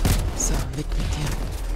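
Gunfire in the heist shooter video game PayDay 2, a steady low rumble of booming shots and distant fusillade with faint chatter mixed in.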